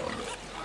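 A Haitian Creole pig gives a short, faint, rough grunting sound, brief and somewhat distant with no talk over it.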